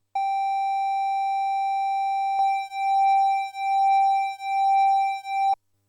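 A buzzy Sequential Pro-One analog synthesizer tone holds steady, then throbs in four slow, even pulses before cutting off, heard alone.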